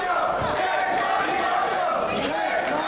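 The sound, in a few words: wrestling crowd cheering in Berlin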